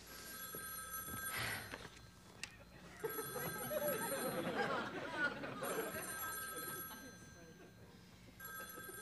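A telephone bell rings in repeated bursts with short pauses between them, while people talk and murmur in the room over the ringing.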